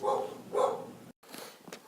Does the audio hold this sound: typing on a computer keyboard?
no